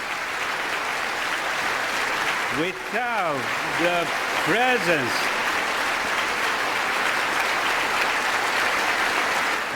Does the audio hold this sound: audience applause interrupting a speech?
yes